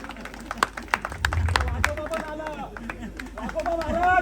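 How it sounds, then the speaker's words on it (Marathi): A crowd at a religious ritual gathering claps for an arriving holy figure, with scattered claps rising into steadier applause amid chatter and talking voices nearby. "रक्षक महाराज आला, त्यांच्यासाठी जरा टाळ्या होत्या."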